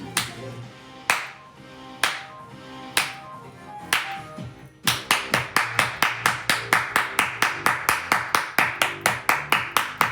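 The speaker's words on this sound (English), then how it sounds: "Let's clap it up" Hand clapping at a live coaching broadcast: a few slow, isolated claps, then a quick, steady rhythmic run of loud claps close to the microphone.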